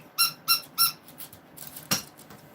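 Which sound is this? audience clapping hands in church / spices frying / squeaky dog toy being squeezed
squeaky dog toy being squeezed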